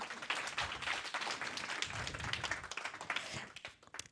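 An audience at a Toulouse tech pitch event applauds the photographer, with dense, sustained clapping that holds steady and tapers off near the end.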